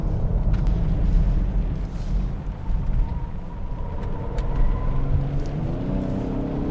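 Lincoln Aviator SUV accelerating hard in sport mode with traction control off, a loud, steady engine roar and road rumble carrying through the whole stretch with rising tonal whine, no talk over it.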